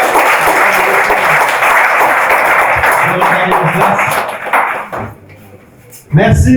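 A church congregation breaks into sustained applause, dense and loud for several seconds, then fades to a quiet lull before a final burst of clapping and noise returns.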